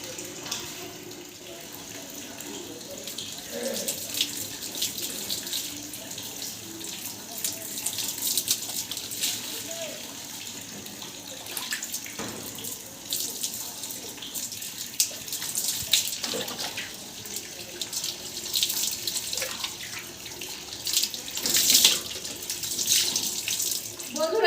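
Running tap water pours steadily as hair is rinsed after shampooing, a close, continuous splashing hiss with small shifts as the stream hits hair and hands, lasting throughout.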